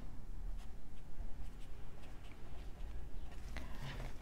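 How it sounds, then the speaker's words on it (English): A pen scratches softly across Tomoe River paper, close and faint, with light irregular strokes and small ticks continuing for several seconds. "I'll just write."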